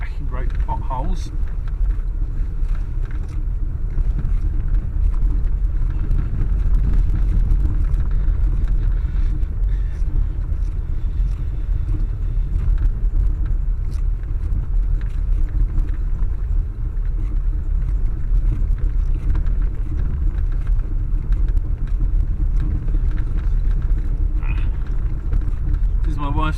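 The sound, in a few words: Classic Mini Automatic car driving down a rough road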